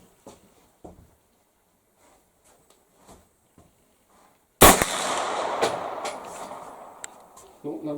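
A single loud AR-15 rifle shot at an outdoor shooting range, a sharp crack followed by a long rolling echo, with faint talk and small handling noises in the quiet seconds before it.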